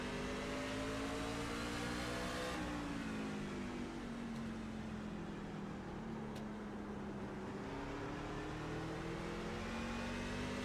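A race car engine in the iRacing sim drones steadily and loudly throughout, its pitch rising and dipping as it holds revs through a lap, with no talking over it.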